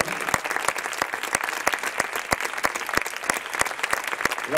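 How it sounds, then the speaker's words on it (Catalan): Audience applause at a cultural debate forum in Tarragona, a dense steady patter of many hands with sharper individual claps standing out, sustained and fairly close throughout. "Gràcies per aquest aplaudiment"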